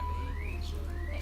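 A single bird chirps in short, rising whistled notes over a steady low hum, fairly faint and brief, with no voices heard.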